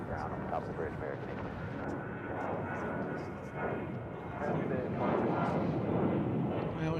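An American Eagle airplane passes at DFW Airport, its broad engine roar rumbling steadily and swelling louder toward the end, heard from the ground with people talking over it.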